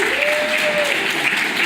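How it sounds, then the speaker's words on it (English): Steady audience applause at a RuhrJS 2017 conference talk fills the space, a dense wash of clapping that holds at an even level throughout. "So give a warm applause for them as well."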